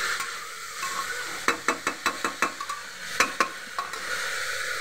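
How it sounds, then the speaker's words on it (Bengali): Salt being stirred into a Bengali puli pitha filling in a pan, with a run of sharp, evenly spaced scraping clicks over a soft sizzling background, close and moderately loud with no talking. "লবণটা ভালো করে মিশিয়ে দিতে হবে"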